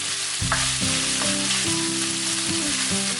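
Onions fry on medium to high heat in a pan for a mussels chilli fry, a loud, dense and continuous sizzle close by, with light scraping from stirring and a low hum, no speech.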